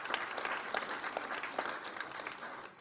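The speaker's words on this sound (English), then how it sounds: "you should clap them" Audience applause at the finals and prize ceremony of a dementia-focused hackathon in Toronto, a steady wash of many hands clapping from a crowd for about three seconds, fading slightly at the end.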